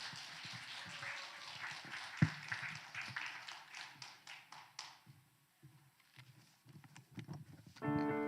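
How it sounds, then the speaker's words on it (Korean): A church congregation claps together, producing a sustained rhythmic patter of many hands that fades out partway through, followed by quieter scattered sounds and then music starting near the end. "우리 박수로 한번 좀"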